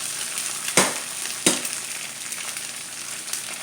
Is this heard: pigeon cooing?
no